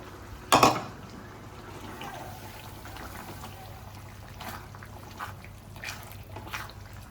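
Gongura leaves are stirred into a prawn curry in a pot: a sharp clatter of the spoon against the pot near the start, then soft, intermittent scraping and wet stirring at low volume, with no talking.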